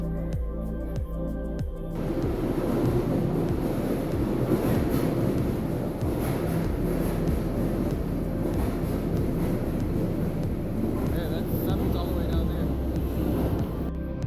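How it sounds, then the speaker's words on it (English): A fast train approaches, its steady rumble and rushing noise swelling after a brief quieter moment and then holding strong as it pulls in. "we're taking a bullet train, and here it comes"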